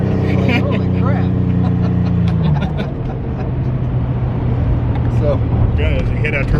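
A 1987 Buick Grand National turbo car launching, steady loud engine drone inside the car with gear-like pitch shifts, people talking over it.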